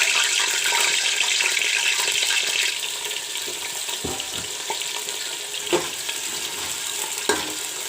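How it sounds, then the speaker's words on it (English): Potatoes frying in oil make a bright, close sizzle that is loudest early on and then settles, with a few clattering knocks from the pan. "Put some oil to fry the potatoes. Now I will put in the potatoes."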